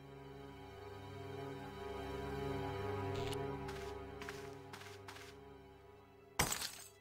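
In the Broken Sword point-and-click game a mirror smashes, a sudden sharp burst of shattering glass that cuts in late over a quiet, steady ambient hum with a few faint clicks before it.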